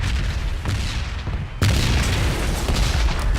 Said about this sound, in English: Even though the bombs may sound more realistic, they rape your ears far more than they ever did before.